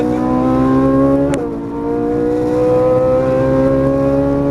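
Ferrari 458 Italia V8 engine accelerating hard out of a turn, a loud, sustained rising roar heard from close by, with a brief dip around an upshift before the revs climb steadily again.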